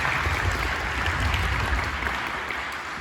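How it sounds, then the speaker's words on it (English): An audience applauds at a lunch gathering, a steady, dense wash of clapping that holds at an even level for about three seconds with no talk over it. "let's give another round of applause for everybody that helps with our lunch today"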